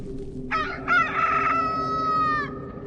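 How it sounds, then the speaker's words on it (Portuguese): A single rooster crows once nearby, a loud drawn-out cock-a-doodle-doo lasting about two seconds over a low background hum. "o galo cantou."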